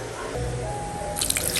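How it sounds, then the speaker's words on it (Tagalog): Water poured from a tap onto santol fruit and brown sugar in a container, a steady close trickle that turns brighter and splashier toward the end. "Tapos lalagyan din po natin ng tubig."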